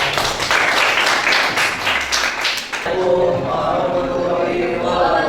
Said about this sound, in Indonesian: Dan tepuk tangan untuk kelompok 1.